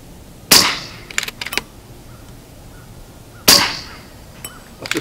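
An FX Panthera air rifle fires two sharp, loud cracks about three seconds apart, each followed by a quick metallic clatter of the action, in a quiet outdoor setting with faint birdsong.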